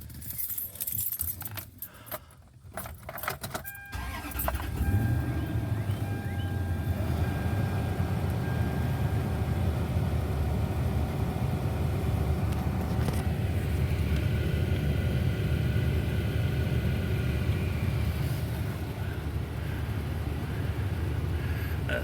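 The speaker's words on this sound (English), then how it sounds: "I'm going to start the car up." Keys jingle at first, then a Toyota Sequoia's engine cranks and catches near 4 seconds and settles into a steady, rumbling idle that continues to the end.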